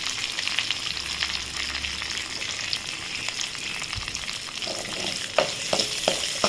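Shallots and curry leaves sautéing with mustard seeds in hot oil for a radish sambar, a continuous close sizzle with crackling pops and a few scraping stirs of a spoon in the pan, no talking.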